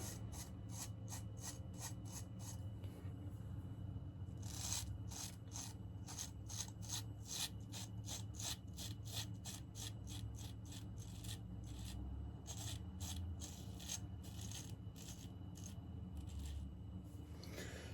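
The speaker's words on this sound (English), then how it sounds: "as usual, with all new blades, I'm going to kind of take my time with this shave" Straight razor shave with a brand-new WoolfBlade: steady close-up scraping of the blade over stubble in rapid rhythmic strokes, repeating in bursts with no talking.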